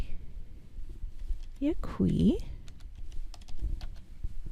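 Text being typed on a computer keyboard, a quick run of close, light key clicks beneath someone talking throughout.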